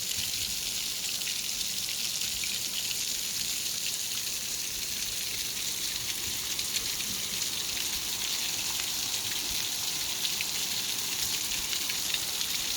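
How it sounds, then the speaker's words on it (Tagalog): Steady rain pouring down outdoors, an even, continuous hiss of falling drops striking surfaces, moderately loud with no voices. "Nakakatuwa yung bagsak ng ulan."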